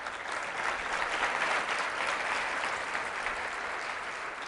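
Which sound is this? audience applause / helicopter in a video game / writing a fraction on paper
audience applause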